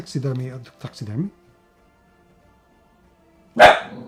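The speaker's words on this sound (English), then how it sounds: "That's my dog." A pet dog named in a board-game unboxing gives one sharp bark near the end, after someone talks and a quiet pause.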